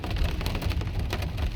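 Steady rain drums on a car's roof and windshield with the wipers off during a drive down a back road, a dense, even patter with a low road rumble underneath and no talking.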